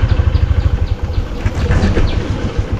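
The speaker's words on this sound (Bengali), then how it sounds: "খুব আস্তে ধীরে বাইক চালাচ্ছি" A motorbike putters slowly along a muddy village road, its engine thumping in a steady low pulsing rhythm, close and fairly loud, with no talk over it.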